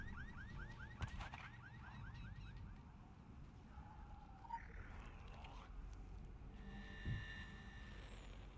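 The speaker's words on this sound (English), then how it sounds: "Jump on abandoned cars on the road to Kingsmouth to trigger their alarms" A car alarm from an abandoned car on the road to Kingsmouth in The Secret World game, its repeating electronic chirps cycling at mid distance over a constant low ambient rumble, with a few dull thumps.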